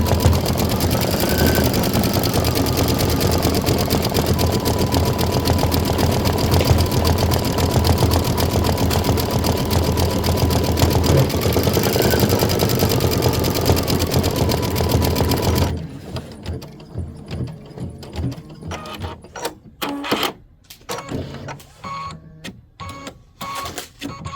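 An embroidery machine stitches out a quilt block, running loud and steady with a rhythmic mechanical whir for about fifteen seconds before stopping, followed by scattered quieter clicks and handling noises.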